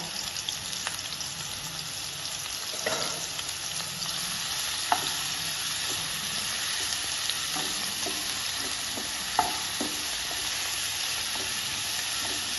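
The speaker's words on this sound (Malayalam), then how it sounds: "വെളുത്തുള്ളിയും ഇഞ്ചിയും ഒന്ന് ഇട്ട് കൊടുക്കാം ചെറുതായിട്ട് ഒന്ന് ചതച്ചത് ഇട്ട് കൊടുക്കാം" Crushed garlic and ginger frying in hot oil in a pan, a steady close sizzle with occasional stirring clicks and scrapes, no voices.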